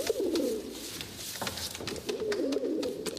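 Soft, repeated cooing of pigeons in two bursts, fairly close, over a faint background murmur.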